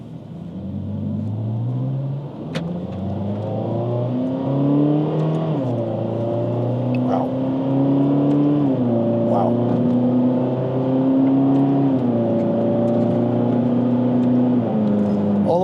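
A 2014 Ferrari California accelerates and shifts up through its gears, the engine note rising repeatedly and dropping at each shift, loud and close from inside the car with someone talking over it.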